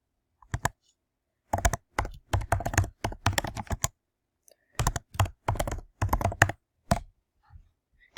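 Computer keyboard keys clatter in quick bursts of typing, with short pauses between clusters of clicks as answers are entered into a quiz tool; close and fairly quiet, no voices.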